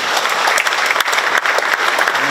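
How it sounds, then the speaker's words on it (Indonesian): Steady applause from an audience at an interior design competition presentation in Jakarta, dense continuous clapping throughout with no voices on top. "Tepuk tangan Bapak."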